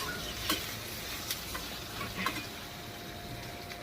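Green chillies drop into a hot pan and sizzle steadily, with a few light clinks of a spoon or stirring, close and fairly quiet.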